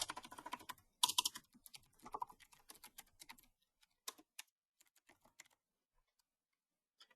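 Rapid bursts of keystrokes on a computer keyboard while typing code, dense and close at first, then thinning into scattered individual taps before falling silent.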